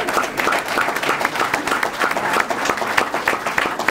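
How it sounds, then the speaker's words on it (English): Steady applause from an audience in a high school gathering honoring a student's mother, dense overlapping claps holding at an even moderate level throughout. "Mama, can you stand up so we can give you an applause?"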